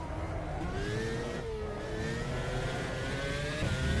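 A Formula 1 car at Hockenheim in the video game F1 2010, its high-revving engine whining continuously with the pitch climbing and shifting through gears, loud and steady with no voices.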